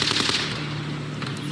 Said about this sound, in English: that is clearly an AR-16 of some sort